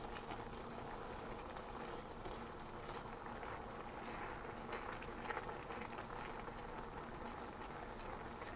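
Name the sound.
macaroni boiling in a pot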